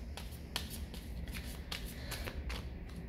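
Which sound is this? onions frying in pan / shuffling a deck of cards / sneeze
shuffling a deck of cards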